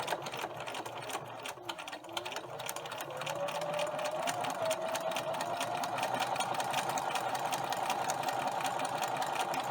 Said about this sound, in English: straight stitch sew the long side together using a ½ inch seam allowance and back tacking or back stitching at the beginning and at the end